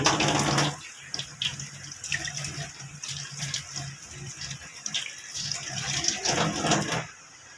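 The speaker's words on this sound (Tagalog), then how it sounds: "First, basahin pa natin yung ating kamay." Water from a household tap runs steadily into a sink as hands are wetted for washing, a continuous close splashing hiss for several seconds that cuts off near the end.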